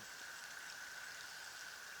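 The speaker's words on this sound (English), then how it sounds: "it's actually raining pretty good here" Steady rain falling outdoors, a continuous even hiss of drops on surfaces, moderately loud and unbroken, with no voices.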